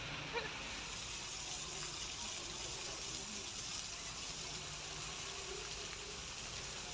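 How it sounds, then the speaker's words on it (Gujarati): Floodwater after heavy rain rushes through market streets in a steady, broadband wash of flowing water, continuous and fairly faint throughout. "બજારોમાં પાણી વહેતા થયા છે."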